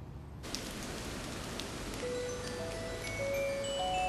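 Steady rain patters and hisses on a surface, with a few faint high tones drifting in near the end.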